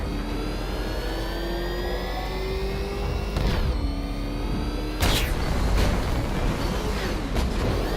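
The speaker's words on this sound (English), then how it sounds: "Can that ramshackle motor handle this?" The Batmobile engine in Batman Arkham Knight, a loud revving whine with rising pitch sweeps, broken by gear-shift drops and a sudden roaring burst of thrust, with no talking.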